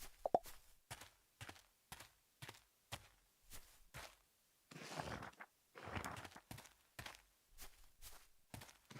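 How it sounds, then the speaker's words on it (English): Footsteps in a video game on Travelers Rest, a steady series of soft thudding steps at an even walking pace, quiet and close, with a brief rustling swell midway and no talk. "Oh, I even hear my footsteps now."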